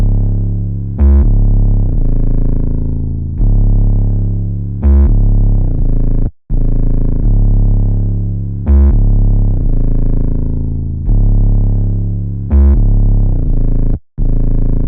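Deep 808 bass pattern in a trap beat: heavy, sustained sub-bass notes that swell and decay in a regular repeating rhythm with short gaps, loud and alone.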